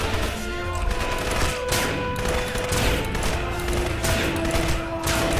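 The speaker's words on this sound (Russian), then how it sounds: "Из джунглей все время непонятно откуда стреляют" Bursts of automatic gunfire ring out from the jungle in the 2007 video game Crysis, rapid clattering volleys coming in several waves at moderate distance over a constant ambient game background.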